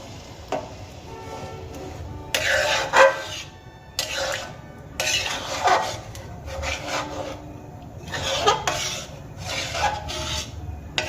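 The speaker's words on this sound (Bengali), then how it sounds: "সমস্ত সেদ্ধ ডাল আমি দিয়ে দিয়েছি এবার খুব ভালো করে আমি মিশিয়ে নেব" Boiled lentils being mixed in a pot give off bursts of wet scraping and rubbing as a spoon works through them, coming in uneven strokes with brief pauses over a faint background hum.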